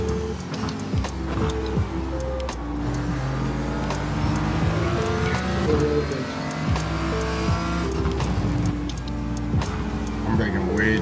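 Race cars in a sim racing video game drone and whine through continuous engine notes with shifting pitch as gears change, steady and fairly close, while people talk over the top.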